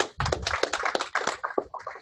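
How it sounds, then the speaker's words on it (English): Audience applause for a person being honored at a talk or class session, a dense burst of close hand clapping lasting about two seconds, loud and continuous without speech over it. "Give Caleb a huge round of applause again."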